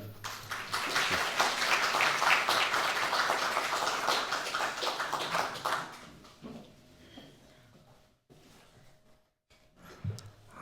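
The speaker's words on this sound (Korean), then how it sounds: "여러분들께서 박수로 환영해 주시면 우리 모시도록 하겠습니다" Audience applause welcoming a speaker at a theology forum, a loud, dense burst of many hands that fades out after about six seconds, leaving scattered quiet noises and near-silence.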